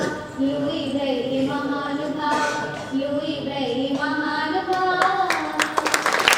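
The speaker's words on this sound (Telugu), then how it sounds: "చప్పట్లు" At a school welcome ceremony, voices sing together, then a burst of rapid hand clapping breaks out near the end.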